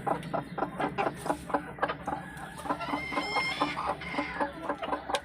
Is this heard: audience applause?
no